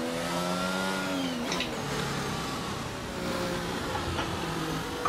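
A race car engine in F1 2022 at the Miami track hums steadily with whining harmonics that dip and rise as the throttle is fed in through corners, moderately loud and continuous with no talk.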